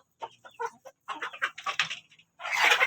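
Free-range village chickens cluck nearby in short, irregular bursts, several birds calling over one another, with a louder squawk at the end and no speech.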